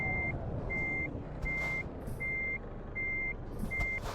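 A truck's reversing alarm in Euro Truck Simulator 2 gives six evenly spaced electronic beeps, loud and steady over a low engine rumble, with no talking.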